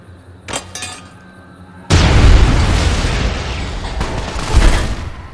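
A grenade detonates in Fallout: New Vegas, a sudden loud close blast with a long rumbling tail and a second thump near the end, following a few quieter pops and a brief voice.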